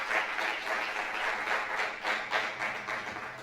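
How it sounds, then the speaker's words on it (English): An audience at a banana seed certification workshop applauds members of the press in a steady round of clapping. The applause is moderately loud and close, with swells and dips through the clip and no talking over it. "A round of applause for members of the press."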